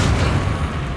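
A Confringo blasting-spell explosion from the Hogwarts Legacy game, a dense, loud, sustained boom with heavy low rumble filling the whole second, no voices over it.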